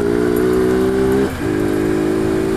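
A Honda XRE single-cylinder motorcycle rides past close by, its loud steady engine drone dipping briefly midway before picking back up.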